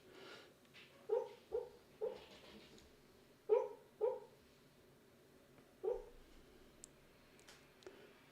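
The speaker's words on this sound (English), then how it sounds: "Just chilling in a ball, woofing in her sleep." Dog curled in a ball woofing in her sleep: soft, muffled single woofs in a loose series of about seven, close but quiet, with pauses between, no talk.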